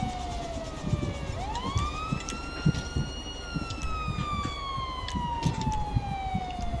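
A video game ambulance siren wails as an ambulance helicopter lands, sweeping down then rising and slowly falling, with engine rumble and scattered clicks and thumps underneath.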